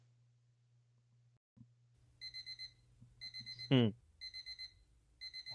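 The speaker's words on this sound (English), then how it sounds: "hate that stupid alarm clock" Alarm clock ringing in the Doki Doki Emerald Affection game: repeated bursts of high electronic beeps in a steady pattern, interrupted once by a sweeping swoosh, close and clear, with a single brief spoken syllable.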